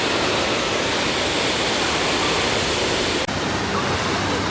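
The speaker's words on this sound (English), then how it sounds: "The majestic and beautiful Six Flags fake waterfalls" Steady roar of an artificial waterfall at Six Flags Fiesta Texas, loud, close and unbroken, a thick rushing wash of falling water that continues without a pause.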